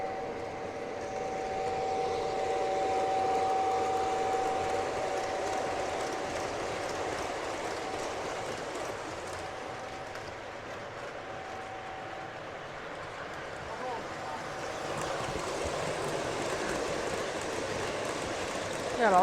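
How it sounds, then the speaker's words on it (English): O gauge model trains roll steadily around a large modular club layout, a continuous rumbling whir with light clickety-clack that stays close and even throughout, with a brief faint tone early on and occasional distant voices in the background. "Got a lot of train action coming through."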